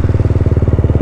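KTM Duke motorcycle fitted with an Akrapovic exhaust, its engine thumping in a steady, loud, close rhythm of rapid pulses with no talk over it.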